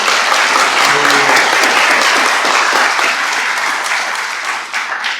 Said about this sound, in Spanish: muchas gracias a Estrella Guerrero, un fuerte aplauso.